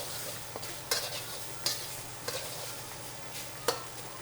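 Turkey and ham stir-frying in fried rice made from holiday leftovers, a low steady sizzle broken by several sharp spatula scrapes against the pan at irregular intervals, close and fairly quiet.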